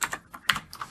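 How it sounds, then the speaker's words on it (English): Fingers tap a computer keyboard, several quick close-up clicks in an uneven rhythm, clear and isolated with no voice. "So now I'm going to hit enter on my keyboard twice"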